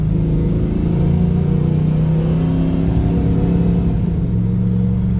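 A 1969 Camaro Super Sport engine revs hard in first gear, a loud, steady, close rumble with strong low harmonics that holds high and then eases slightly near the end, with no talking.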